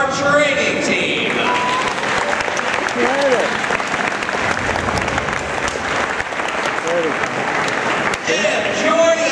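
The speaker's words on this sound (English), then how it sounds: "how about a round of applause for our training team?" Audience applause at a dolphin show in a Chicago aquatic center, a dense sustained wash of clapping from a large crowd filling the whole stretch, with whistles and cheers mixed in.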